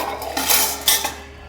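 Plates and cutlery clatter briefly in a home kitchen, with two bright clinking bursts close by and no voices.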